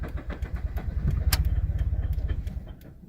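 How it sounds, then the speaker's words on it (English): A Scion FR-S with a blown engine cranks but fails to start, giving a close, loud rapid rhythmic chugging of the starter that runs for a few seconds then drops off. "This is me trying to start it"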